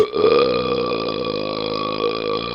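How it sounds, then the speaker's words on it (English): A loud, long, resonant belch used as a sound effect in a told English folk tale about a giant gorging on porridge, close and sustained, with no speech over it. "He then fell back in his chair, clutching his tummy, and let off a terrible belch."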